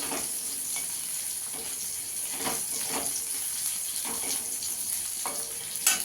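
Crushed garlic frying in hot oil gives a steady close sizzle and hiss, with a few soft stirring scrapes and a sharper crackle near the end.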